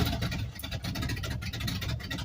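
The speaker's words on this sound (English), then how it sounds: "Let it idle." A car engine idles roughly at close range, a low, uneven throbbing rumble with a pulsing rhythm and slight wavers, running steadily for a couple of seconds with no talking.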